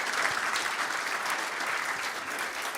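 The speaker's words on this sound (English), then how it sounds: "Let's again give Lina another round of applause." Brief, dense audience applause at a cybersecurity event, an even wash of many hands clapping at close range with no pauses.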